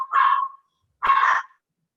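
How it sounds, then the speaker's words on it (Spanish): A small dog barks twice, about a second apart, each bark sharp and fairly loud against an otherwise silent background. "Hay un perrito detrás."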